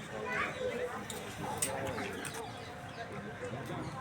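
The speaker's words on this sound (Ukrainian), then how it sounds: "Як пташки співають?" Faint birds chirp and call in the distance over a soft outdoor hum by Lake Daumesnil in Paris, with children's voices and talk mixed in.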